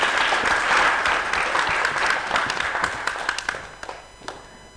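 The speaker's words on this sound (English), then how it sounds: "I want to take this opportunity to invite all of you to clap for yourselves for a very good work." Participants at a national stakeholders' workshop on climate adaptation applaud together, a full burst of clapping that thins into scattered individual claps and fades out.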